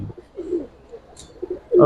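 Giribaz pigeons give a few low, soft coos spaced across the moment, close by, with a louder burst near the end.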